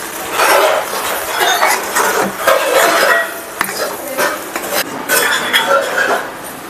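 A spoon scrapes and clinks around a pot of South Indian vada curry, continuous close stirring with irregular metallic knocks, with a voice talking faintly over it.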